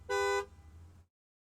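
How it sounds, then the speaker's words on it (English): Car horn tested once during a pre-drive inspection: a single short, loud, bright honk lasting about a third of a second, followed by faint idling engine hum that cuts to silence. "checking the horn"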